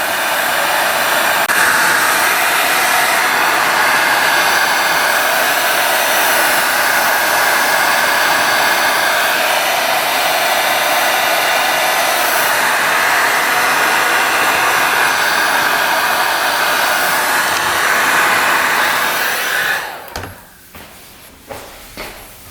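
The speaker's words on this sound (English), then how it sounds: "Just going to use a heat gun." A heat gun blows steadily for about twenty seconds, heating a part of a 1980s barn-find dirt bike before a bearing install, a loud, close, unbroken whir that cuts off, followed by a few light clunks.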